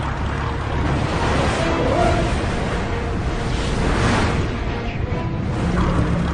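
A military airplane breaking apart violently in flight after nosing over onto its back under negative G, heard as a continuous loud roaring, rushing noise with low rumbling throughout and no distinct separate impacts.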